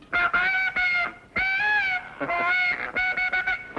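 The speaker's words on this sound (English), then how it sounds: "the great Canadian goose wings its way overhead" Canada geese honking overhead, a flock calling in rapid repeated nasal honks in uneven bursts with brief pauses between, fairly close and clear with no voices.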